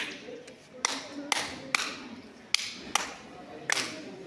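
A group claps the three-factorial pattern in a guidance and counseling role play: a few separate sharp claps, a pause, then pairs of claps, spaced in a steady rhythm over a quiet room.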